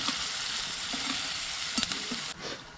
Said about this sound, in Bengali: আমার পেঁয়াজ ভাজা না এখনো কমপ্লিট হয়নি